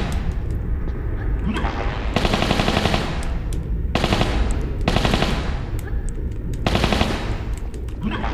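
Gunfire in Tomb Raider III during a temple boss fight comes as loud, close bursts of rapid automatic shots, four separate volleys with brief gaps between them.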